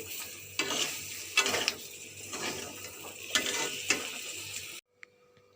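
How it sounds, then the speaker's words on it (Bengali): Cardamom and cloves tempering in hot oil, a steady close sizzle with crackling bursts and occasional stirring clatter, cutting off abruptly near the end into near silence. "একটু গরম মশলা মানে এলাচ আর লং করে একটু ফোড়ন দিয়েছি"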